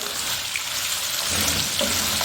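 Mutton pieces frying in a pan for mutton karahi, a continuous dense sizzling hiss that stays steady and close throughout, with a slight bubbling swell toward the end.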